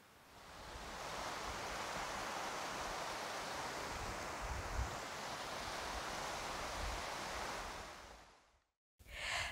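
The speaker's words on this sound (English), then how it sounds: "This is the headwaters of the St. Louis River" Steady broadband outdoor ambience at a wetland at the headwaters of the St. Louis River, a continuous wind-like rush holding level for about eight seconds, then briefly cut to silence before returning; no voices.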